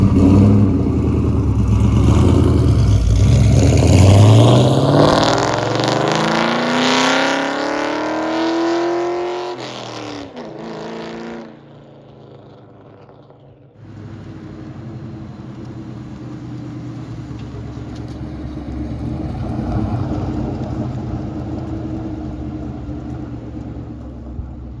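A Ford Mustang engine roars hard as it accelerates away on takeoff, pitch climbing through the gears, then drops off before a steady lower rumble continues.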